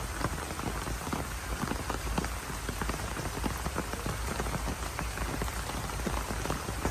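Steady, dense rain pours on a remote river-island (char) village, a continuous close patter of drops on surfaces that holds an even loudness throughout, with no voices.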